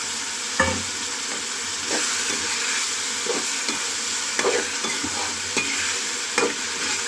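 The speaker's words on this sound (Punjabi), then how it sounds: "ਇਹ ਅਸੀਂ ਸਾਰਾ ਪਾ ਦਵਾਂਗੇ ਤਾਂ ਜੋ ਸਾਡੇ ਆਲੂ ਚੰਗੀ ਤਰ੍ਹਾਂ ਖੱਟੇ ਵਾਲੇ ਬਣ ਸਕਣ" Potatoes being stirred with a sour khatta sauce in a sizzling pan: a continuous frying hiss broken by repeated spoon scrapes and knocks at irregular intervals, close and fairly loud, with no talking.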